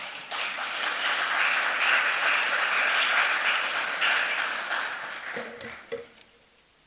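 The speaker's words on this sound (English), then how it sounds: "I think Ghana deserves a round of applause for that." Warm, sustained applause from the audience at the opening ceremony of the Aquaculture Ghana Conference 2023 holds strong for about five seconds, then tapers to a few scattered claps and a voice before fading out.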